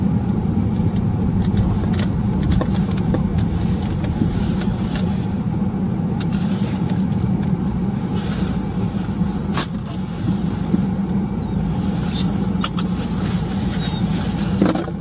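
A car pulls into a roadside lay-by on the A684 near a road bridge, its engine a steady, close rumble with continuous road noise throughout and no talking.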